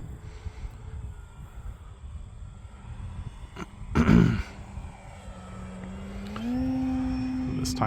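A Pitts aerobatic plane engine drones at a distance under steady wind noise, briefly swelling with a rough burst, then settling into a louder, steadier hum as it climbs with added power.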